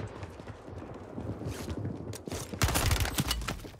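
Rapid pistol gunfire in a Call of Duty match, dense bursts of shots and clattering game effects that grow louder and busier toward the end, with no speech over them.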